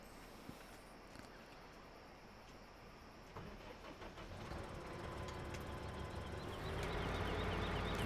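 Tractor engine in a farming video game starting up, a low rumbling drone that builds gradually and grows louder toward the end, with no talk over it.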